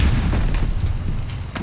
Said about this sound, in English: I'm gonna just start throwing nades and stuns.